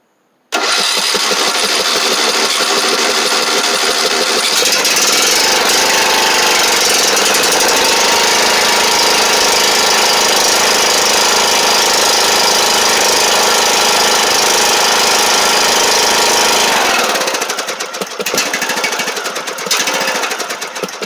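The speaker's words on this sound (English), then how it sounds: "So as you can see, cranked it right up." A lawn mower engine cranked by a U1 lithium battery catches quickly and runs loud and close at a steady, slightly rough idle for about sixteen seconds, then drops off near the end.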